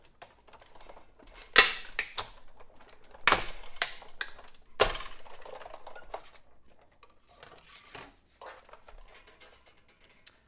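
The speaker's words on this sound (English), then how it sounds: "send it through our die cut machine" A die cut machine cranks a layered card through with a run of sharp clicks and clacks. The clicks come at irregular intervals, heard close and alone in a quiet room.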